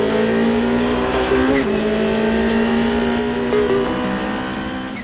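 A Toyota GTP prototype race car with a 2.1-liter turbocharged four-cylinder screams past at high revs, a loud sustained engine note with a brief shift dip, fading slightly as it moves away.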